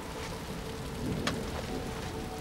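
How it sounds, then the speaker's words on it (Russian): Rain falls steadily in a dense, even hiss of drops, quiet and continuous, with a single brief sharper crackle partway through and no voices. "Дождь идет."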